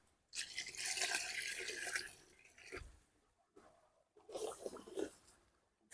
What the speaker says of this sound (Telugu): ఇప్పుడు మనం తగిన నీళ్ళు అయితే పోసుకుందాం.